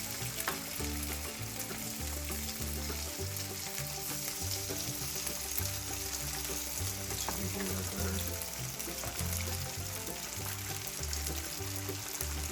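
Steak pieces frying in a skillet, cooked a little at a time so they brown, giving a steady, loud, dense sizzle throughout with a low repeating tonal hum underneath and no talk.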